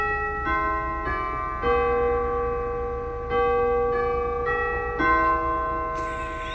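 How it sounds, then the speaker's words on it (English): An old-fashioned doorbell, likely a synthesized chime, rings in sustained, bell-like tones: several overlapping struck notes that ring on and layer over each other, loud and steady, with no talking. "that old-fashioned doorbell"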